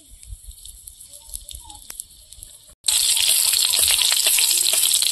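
Dried red chillies drop into hot oil for a fish sour dish and erupt in a loud, steady sizzle that fills the second half, after a quieter stretch of faint kitchen noise and a brief silence.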